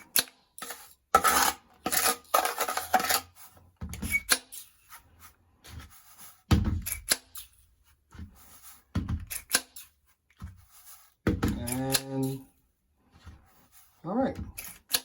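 Canadian gold pay dirt heavy with black sand poured out, giving irregular gritty rattling and sliding bursts with pauses between pours, close and moderately loud.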